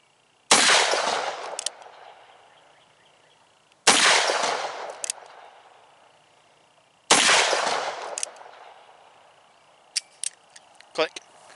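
.44 Magnum revolver fired at a range, three loud, close, evenly spaced gunshots, each with a ringing decay, followed by a few small mechanical clicks.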